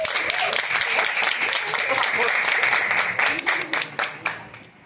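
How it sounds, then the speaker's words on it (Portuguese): Audience applause at a dance competition fills a festival hall as a solo amateur dancer is called to the stage, dense and steady, thinning into a few scattered claps near the end. "Palmas, pessoal!"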